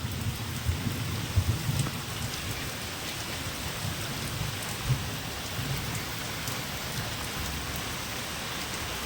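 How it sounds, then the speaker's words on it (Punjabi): Heavy rain pours steadily, a dense continuous roar of drops hitting surfaces with occasional louder splashes, with no voices. "ਪੂਰੇ ਜੋਰਾਂ ਸ਼ੋਰਾਂ ਦੀ بارش ਹੋਣੀ ਸ਼ੁਰੂ ਹੋ ਗਈ"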